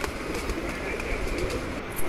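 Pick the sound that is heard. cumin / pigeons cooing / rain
pigeons cooing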